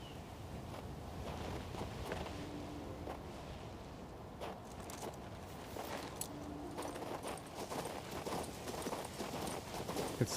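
Horse hooves clip-clop at a steady walking pace in the snowy world of the video game King's Bounty II, fairly soft with faint wind and ambient background underneath.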